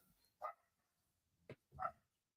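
Three short dog barks, a single bark followed by a pause and then two close together, moderately loud in a quiet room.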